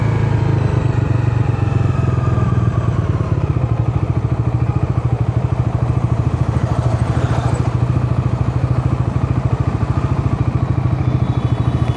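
A Bajaj Dominar 350 motorcycle heard on a ride, its engine loud and close with a steady throbbing rumble and rapid pulsing exhaust beats, plus wind rush, holding even throughout.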